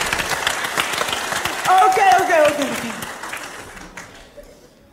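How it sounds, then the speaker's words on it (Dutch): Theatre audience applauding at a live stage show, a dense wash of clapping that swells then fades out, with a voice speaking briefly over it. "Dus mag ik daar alsjeblieft een heel hard applaus voor."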